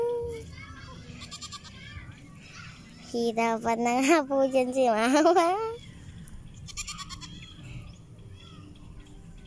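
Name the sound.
goats bleating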